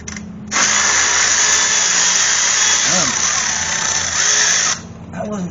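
A power tool whines loud and steady for several seconds while loosening bolts on a BMW Z3 E36 water pump, starting and stopping abruptly with brief quieter pauses around it.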